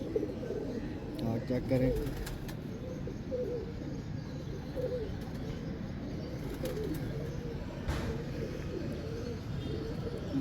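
A Tosa pigeon coos in low rolling bursts, with its wings flapping now and then, as someone talks over it throughout at close range.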